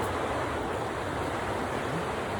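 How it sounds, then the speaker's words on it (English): The Chattooga River rushes over falls and rapids along a foothills hiking trail, giving a constant, loud broadband roar of churning water heard up close with no voices. "lots of falls, lots of rapids"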